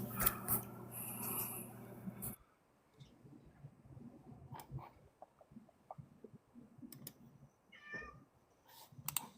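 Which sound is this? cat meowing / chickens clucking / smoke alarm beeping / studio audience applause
cat meowing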